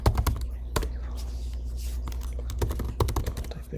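Keystrokes on a computer keyboard as a password is entered for a sudo command, a few quick clusters of clicks at the start and again near the end over steady low room hum.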